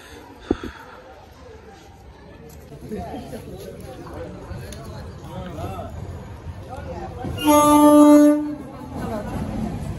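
A train at a station rumbles along with a loud horn blast near the end, while people talk in the background.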